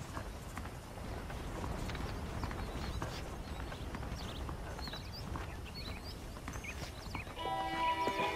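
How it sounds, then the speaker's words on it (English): Saddled horses' hooves clop steadily on the ground in the Red Dead Redemption video game, a continuous rhythmic patter with faint background ambience and a brief brighter sound near the end. "The horses are saddled up over here."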